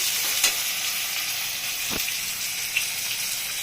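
A paste of nigella seeds and mustard is added to a hot pan for a katla fish curry, giving a steady hissing sizzle with a couple of soft stirring knocks.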